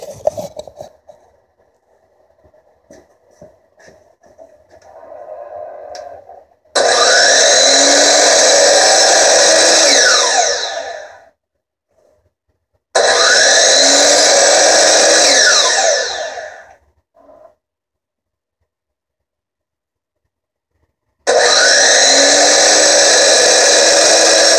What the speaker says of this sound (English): How to cut a cucumber at work when you don't have a knife.